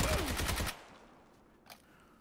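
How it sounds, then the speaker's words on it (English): Bizon submachine gun fire in the video game PUBG on console, a loud dense burst of rapid shots for under a second, then fading reverb and one faint later shot. "So, let's see the first Bizon gunfight here."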